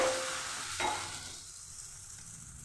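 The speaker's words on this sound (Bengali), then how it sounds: "গরম করে নিয়ে এবার আমি ব্যাটার দিয়ে দিচ্ছি।" Batter for pea-flavoured patishapta hits a hot, oiled wok and sizzles with a loud, close hiss that gradually settles to a softer, steady frying crackle, with no voices.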